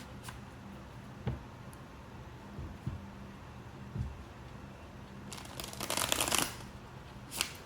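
Tarot cards being shuffled by hand, a quiet riffle with a few soft taps early on and a louder, denser burst of card shuffling near the end, no talking.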